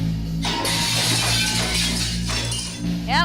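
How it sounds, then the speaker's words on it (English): Glass shattering as a game sound effect, a bright crashing burst with tinkling fragments over a constant low hum, followed by a second smash; a voice speaks briefly. "The sound of the glass breaking resonates from behind me."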